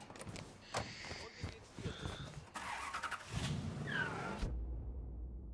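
Car engine in Mafia 3 cranking to life and revving as the vehicle pulls away, with a low rumble and rising engine tones after some clattering movement, then cutting off abruptly.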